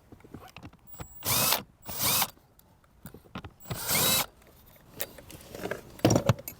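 A power driver or ratchet works two 10mm bolts out of a Lexus RC F dash panel, with several loud whirring bursts separated by small clicks and handling noise.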